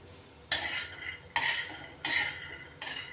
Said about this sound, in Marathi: शेंगदाणे ना स्लो गॅसवर भाजायचे छान भाजले जातात